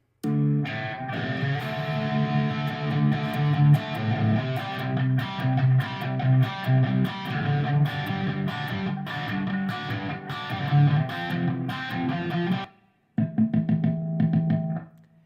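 Cheap Temu electric guitar with a kill switch, played loud through distortion: thick chugging chords and riffs for about twelve seconds, an abrupt cut like the kill switch, then more distorted strumming.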